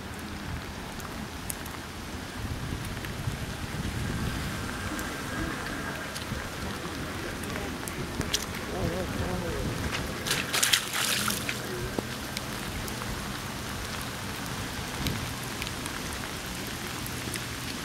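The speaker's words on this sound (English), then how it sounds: "Just check out Lake Ontario in the rain." Steady rain patters on surfaces at a Lake Ontario beach and pier on a calm day, a constant wash of drops with faint scattered louder splashes.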